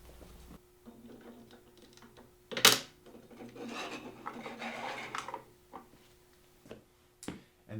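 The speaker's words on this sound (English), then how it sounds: "Snap the base trims together around each post, placing them on top of the post base." InstantRail plastic base trim halves snapped together around a railing post, a sharp click near the start followed by rubbing and scraping of the parts, close and fairly quiet, with no talk.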